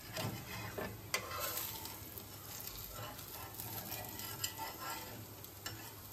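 A thin dosa is loosened from a hot pan, a soft continuous sizzle and scraping with a few sharper clicks of the spatula against the metal, close and fairly quiet.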